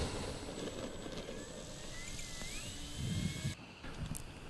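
An E-flite Carbon-Z Cub RC airplane flies a downwind landing approach in gusty wind, its steady electric motor whine carrying over heavy wind noise on the microphone, then dropping out abruptly near the end.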